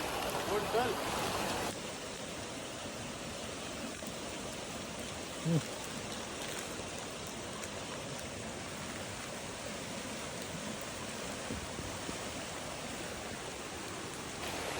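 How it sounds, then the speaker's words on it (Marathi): Heavy rain pours down during a flood as a dense, unbroken hiss of water, with a faint voice underneath. "पाऊस काय थांबाचं नाव घेत नाही"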